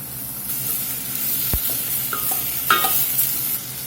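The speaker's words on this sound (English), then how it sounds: "going to let these onions sweat down here just a minute before we get them maters in" Onions sweat and sizzle in a hot pan for a Cajun pasta with blackened scallops, with cherry tomatoes going in. A constant frying hiss runs throughout, broken by a few sharp utensil knocks and stirring scrapes, with no talking.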